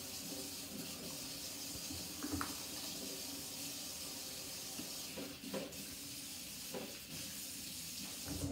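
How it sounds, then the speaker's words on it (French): Warm tap water runs steadily into a sink while hands are scrubbed under it. The hiss is faint and continuous, with small splashes and soft rubbing sounds. "Ça lave très bien les mains. Ça les frotte. L'eau est chaude."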